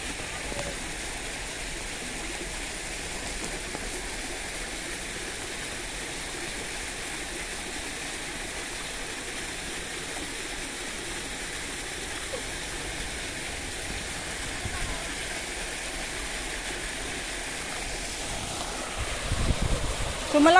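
Strong water rushes along Kam Sha stream in a dense, unbroken roar that stays loud and even throughout, with a brief louder disturbance near the end.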